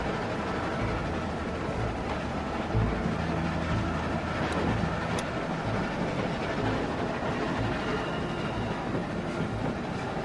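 Continuous loud rumble of a moving train in The Walking Dead video game, with steady rolling noise, no voices, filling the whole stretch.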